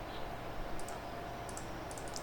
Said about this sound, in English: So you can keep on clicking on those areas to completely wipe off those extras that are remaining